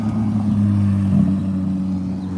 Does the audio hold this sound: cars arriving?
yes